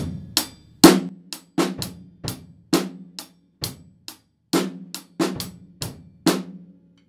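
A drum kit plays a snare drum independence exercise: crisp snare hits mixed with kick and cymbal strokes in a steady, syncopated pattern of short sharp attacks, close and clear with no talking.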